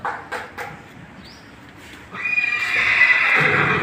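A black mare whinnies loudly and close by, a sustained neigh that rises out of quieter surroundings after a few soft thuds.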